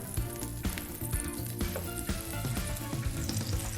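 Beaten eggs poured into a hot pan sizzle loudly and continuously, a dense crackling fry close up with no talk over it.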